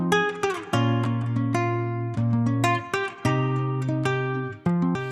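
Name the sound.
guitar melody for a chill Afrobeat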